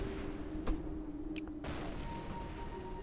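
A grenade blows up in the video game Rusted Moss, giving a couple of brief, soft bursts over a steady, noisy game background.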